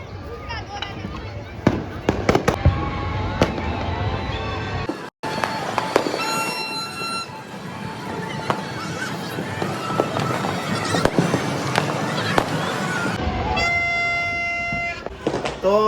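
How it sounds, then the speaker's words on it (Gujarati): Firecrackers pop and crackle outside during the Uttarayan kite festival night in Surat, in sharp irregular bursts, while someone talks over them and horns sound in the background. "બહાર જો આવી રીતના કંઈક ફટાકડા ફૂટે છે એટલે એનો થોડોક અવાજ આવશે આપણા વ્લોગમાં"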